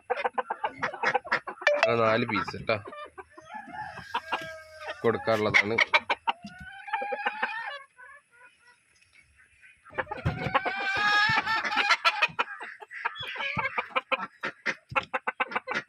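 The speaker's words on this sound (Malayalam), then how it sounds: "ഒരു പൂവൻകോഴി." A rooster kept with three same-age laying hens at a farm in Edayur, Kerala, clucks and crows in several loud bursts close by, with someone talking between and over the calls.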